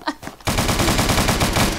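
Rapid automatic gunfire in a Roblox game: a couple of quick shots, then a loud, sustained burst of evenly spaced rounds right up close.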